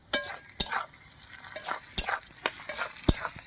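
Shrimp frying with pointed gourd in a pan: a soft sizzle broken by several sharp spatula scrapes and clacks against the pan at uneven intervals, close and fairly quiet.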